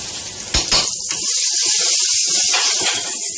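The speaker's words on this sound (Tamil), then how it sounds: "இப்போ கருவேப்பிலை போட்டுக்கிறோம்." Curry leaves dropped into hot oil with ginger and garlic for a mutton liver and capsicum gravy, giving a sudden crackle that settles into a loud, steady hiss and sizzle, close up, with no talk.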